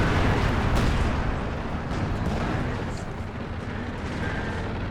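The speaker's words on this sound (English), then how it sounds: "they've got the 152 mil artillery down back here as well" A 152mm artillery barrage in Company of Heroes 2 rumbles as a dense, continuous wash of distant explosions and booms, with a few sharper blasts standing out.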